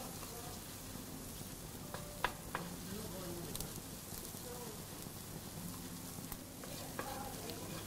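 Eggs sizzling and frying in a wok for pad thai on a Weber Spirit II E 310 gas barbecue, a continuous close crackle with scattered utensil scrapes and stirring taps.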